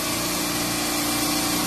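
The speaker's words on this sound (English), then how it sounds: "So I'm going to go ahead and just start one compressor up slowly." A refrigeration rack compressor runs with a dense, steady mechanical hum and whir, loud and close, unbroken throughout the short stretch, with no voices.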